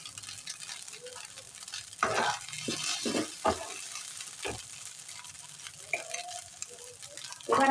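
Vegetables and pasta being stir-fried in a pan, a soft background sizzle broken by several scraping, tossing stirs of a spatula, with brief clatters and a louder stir at the end.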